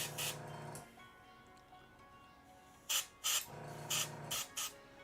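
An airbrush sprays paint onto a miniature in short, soft hissing bursts, one longer spray and then several quick puffs, faint and close.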